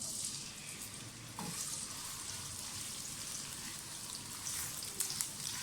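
Onions fry in cooking oil for a cauliflower chicken curry, a soft, continuous crackling sizzle heard alone at low volume with a few brighter pops.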